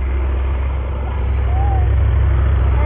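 A farm tractor engine runs steadily out by a field, a loud, close, unbroken low drone with a faint rising whine midway.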